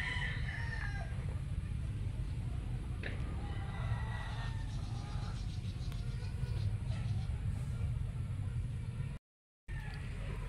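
Rooster crowing in a small chicken breeding pen, steady outdoor background noise with a few faint calls rising over a continuous low rumble.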